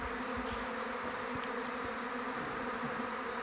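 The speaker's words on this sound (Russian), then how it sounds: "Большое количество пчел летает." A large swarm of honey bees flying around a hive on a cool day, a dense continuous buzzing drone filling the air, steady and fairly close with no voices.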